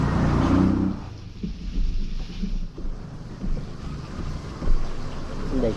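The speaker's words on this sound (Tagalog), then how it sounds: "Tapos ang lakas ng hangin." Strong wind buffeting the microphone outdoors near water, with heavy low rumbling gusts that rise and fall throughout and people talking faintly underneath.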